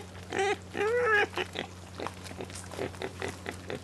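Wild boar in Berlin grunting and squealing in a few loud, close bursts near the start, followed by softer snorts and rustling over a steady low hum.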